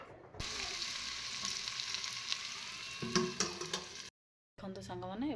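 Onion pakoras sizzle steadily in hot oil in a pan, a dense crackling hiss broken by a few stirring scrapes and a brief silent gap. A voice talks briefly near the end.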